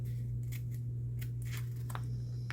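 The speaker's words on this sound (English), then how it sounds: "I am just going to cut some of this off" Scissors snipping away excess bulky fabric from a silverware bag craft before gluing, several short crisp cuts spaced through the clip over a steady low hum.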